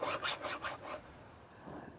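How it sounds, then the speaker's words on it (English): Chainsaw chain being hand-sharpened with a file, several quick rasping strokes close up that fade after about a second into quiet scraping. "I'm gonna teach you guys how to sharpen a chainsaw."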